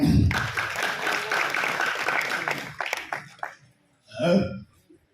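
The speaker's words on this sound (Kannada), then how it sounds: "ಈಗ ಡಾಕ್ಟರ್ ರಾಜ್ಕುಮಾರ್ ಬರ್ತಾರೆ, ಜೋರಾದ ಚಪ್ಪಾಳೆ." A burst of audience clapping for a few seconds at a Kannada cultural event, fading out, then a short pause and a brief murmur of voices.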